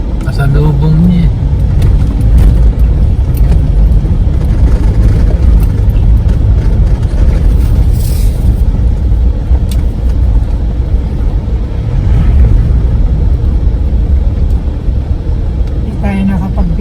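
A truck rumbles past on a road near a bridge in Bulacan, a loud low engine drone that swells and fades over several seconds, with people talking over it throughout.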